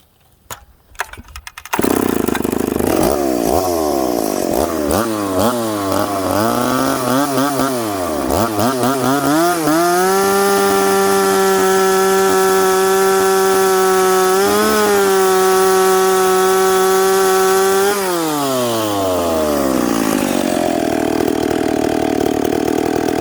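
A piped McCulloch Pro Mac 850 chainsaw fires up, revs in rising and falling bursts, then holds a loud, sustained high-pitched scream while cutting hard maple before easing back to idle.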